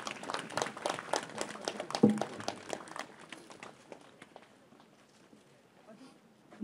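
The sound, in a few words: audience applause at opening ceremony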